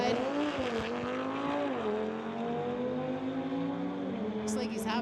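A BMW street-legal drag race car roars at high revs, loud and close, its engine pitch holding steady then dipping and climbing again, with a brief high squeal near the end.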